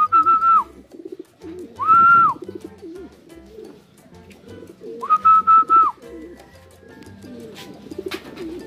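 Racing pigeon in the loft at a Calauag, Quezon fun race, with several repeated coos in rhythmic bursts near the mic, quieter bird calls and low murmurs between them.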